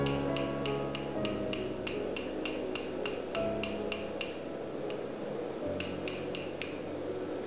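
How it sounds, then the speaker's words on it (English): Small hammer striking a tiny steel knife blank on an anvil during forging, a steady run of sharp metallic ringing blows in regular rhythm with a short pause before a final quick series, heard close over a continuous forge roar. "At this point, I'm also switching over to a smaller hammer, since I'm really only forging a tiny knife here."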